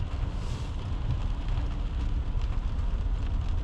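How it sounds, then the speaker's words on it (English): Heavy rain in Seattle near the University of Washington, a dense, continuous hiss and patter with the low rumble of passing city traffic underneath, steady throughout. "So as you see, lots of rain."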